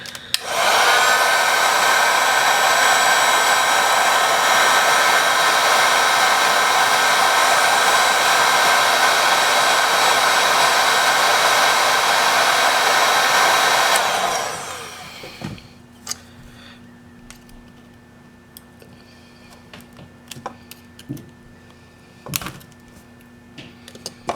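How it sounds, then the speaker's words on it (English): A heat gun blows hot air steadily and loudly onto the camera glass of an iPhone X for about fourteen seconds, then cuts off, leaving faint handling clicks and taps. "I'm gonna use some more heat gun"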